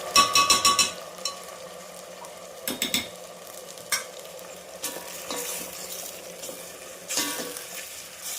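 Ginger garlic paste fries in a pan for chicken biryani, a soft, steady sizzle broken by repeated scraping stirs of a spoon against the metal, some strokes sharp and close, others lighter.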